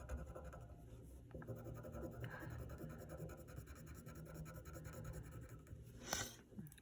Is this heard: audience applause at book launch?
no